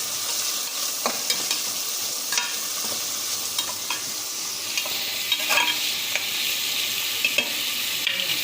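Steady oily sizzling of onions frying in a pan, with occasional soft scrapes and clicks of stirring; continuous and fairly close, no talking.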